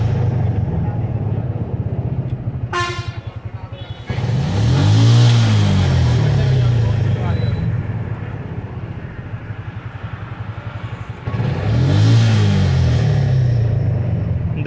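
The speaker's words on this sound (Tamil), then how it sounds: "இப்போ வண்டி ஸ்டார்ட் பண்ணுறோம்" A TVS King vehicle with an acceleration-missing fault is started. A starter whir gives way to a close idling engine rumble, which rises in two strong revs with a lighter idle between them.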